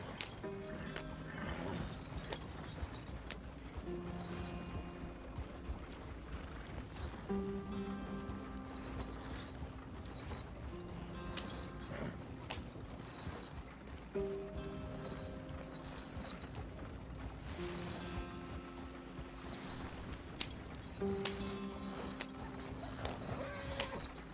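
Horse hooves clip-clop at a steady walking rhythm in the Red Dead Redemption 2 video game, with faint tack and mechanical creaks, continuous and close throughout.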